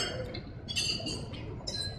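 Glasses clink together during a wedding toast, several light, bright chimes in quick succession, close and clear with no talking over them.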